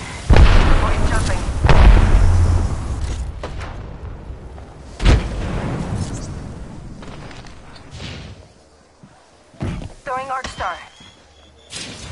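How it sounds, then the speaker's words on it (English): A grenade goes off in the Apex Legends battle game, one of several heavy booming blasts and sharp pops amid gunfire, with a voice speaking over the action. "Throw my grenade out."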